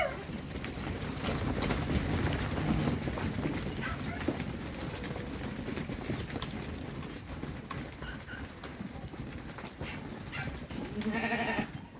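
A flock of Romanov sheep and lambs bleating over a busy farmyard din, with a few clearer bleats near the end.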